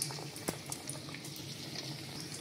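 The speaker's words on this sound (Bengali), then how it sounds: "মিনি সমোসা একসাথে দিয়ে দিল এবং ভাজা শুরু করলো" Mini samosas and potato crescents deep frying together in hot oil, giving a steady, fairly quiet bubbling sizzle with a few sharper pops and crackles, no voices.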